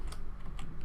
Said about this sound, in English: Then we simply need to type in user